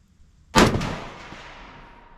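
A single sharp rifle shot from a KUSA KR-103 cracks loudly and close by, followed by a long fading echo rolling across an outdoor range.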